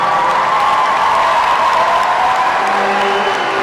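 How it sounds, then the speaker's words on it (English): A large commencement audience applauds the graduates, a steady, loud wash of clapping that runs unbroken throughout. "I congratulate and applaud you."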